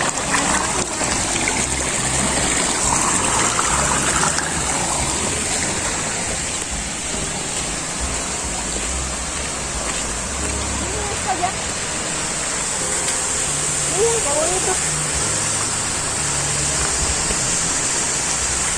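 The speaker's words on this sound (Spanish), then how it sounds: "Esto es como un remolino que va hacia allá" Broad, steady rush of a river's swirling current forming a whirlpool, loud and continuous outdoors, with faint voices in the background.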